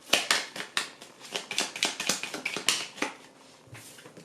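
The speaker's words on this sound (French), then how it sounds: "On va mélanger le Lenormand, la lune." Lenormand oracle cards are shuffled by hand, a rapid series of crisp papery slaps and riffles, close and fairly quiet, tapering off toward the end.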